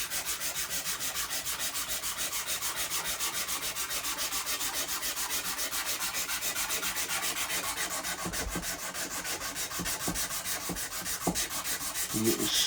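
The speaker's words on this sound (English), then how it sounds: "You get a little strip of sandpaper, and all we're going to do is just gently bring this along." Steady, continuous rubbing of a strip of sandpaper over wood on a 7-string baritone guitar build, a dense raspy scrape with an even back-and-forth rhythm, close and fairly loud.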